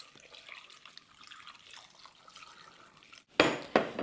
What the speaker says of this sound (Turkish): 1 yemek kaşığı kaya tuzu, üzerine çıkacak kadar da su koyuyorum